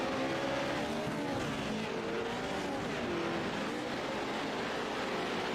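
Race cars in the iRacing video game roar steadily around Crandon International Raceway during a VORRS Pro 2 Championship race, a continuous layered engine drone with shifting pitch, loud and without talk.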